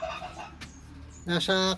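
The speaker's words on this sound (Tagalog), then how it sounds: "Dito, ay yung mga pabo natin. Mga breeder natin." Breeder turkeys calling nearby: a faint call early on, then a loud, harmonic gobbling cry near the end over quiet farm background.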